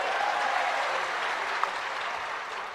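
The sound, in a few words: crowd applauding at a political rally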